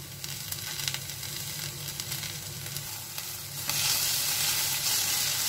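Steady oily sizzling of chopped tomatoes sautéing in oil with green peas masala in a pan, close and continuous, growing a little louder and brighter partway through.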